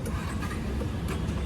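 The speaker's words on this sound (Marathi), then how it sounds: "आता आमची गाडी चालू पण झाली बघा" A car engine runs at a steady, low idle after starting, a continuous rumble under faint background noise with no talk.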